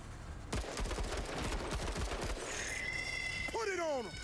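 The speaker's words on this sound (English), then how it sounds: "So, Tech, let's open fire up over here." Rapid bursts of gunfire crackle through a tense battle in the game MENACE, with dense volleys at first, then whistling, sweeping electronic tones and falling whines near the end.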